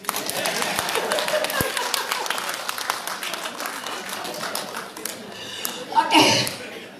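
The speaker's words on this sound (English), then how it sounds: "Why not clapping?" An audience claps at an oil and gas forum in Miri, Sarawak, a dense, steady patter of many hands with a louder flurry near the end.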